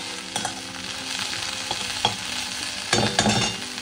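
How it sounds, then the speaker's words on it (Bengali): Neem leaves frying in a pan, heard as a close, continuous sizzle with stirring scrapes and several sharper clinks and crackles; no talking. "তো এখানে নিম পাতা ভাজা বসিয়ে দিয়েছি"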